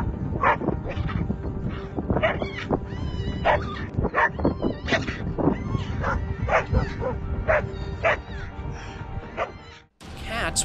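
A pack of dogs, including a pair of black dogs, charges a marmot, with loud overlapping barks and yips in rapid bursts throughout, interspersed with whimpers, and a brief pause near the end.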